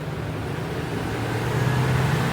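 A car engine idles smoothly in a low, steady rumble, close by and constant, with no talk.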